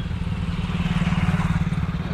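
A motorcycle idles as it is brought to a stop, its engine giving an even, pulsing putter close by and alone for about two seconds.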